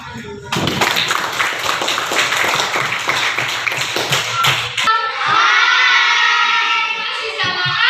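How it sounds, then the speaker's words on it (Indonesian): Children clap hands together in an Indonesian classroom lesson, a dense rhythmic burst of claps for about four seconds with shouting voices over it, then someone speaks alone. "Tepuk tangan dulu."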